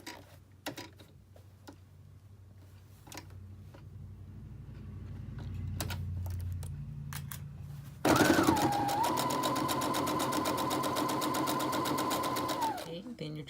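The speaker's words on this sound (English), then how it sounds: "And then just stitch across that bottom edge." After several seconds of quiet handling and faint clicks, a sewing machine starts up close and loud, stitching steadily across the bottom edge of a sewing project for about five seconds before it winds down.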